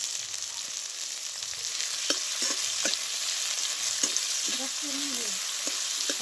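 Onion sizzles in hot oil with cumin seeds over a wood-fired chulha stove, a constant bright frying hiss with occasional soft stirring clinks and scrapes, close by and without talk.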